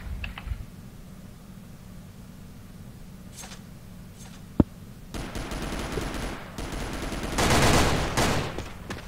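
Gunfire in a multiplayer shooter video game: a single sharp shot cracks out mid-way, then sustained automatic bursts build and peak near the end, loud and dense against a quieter game ambience.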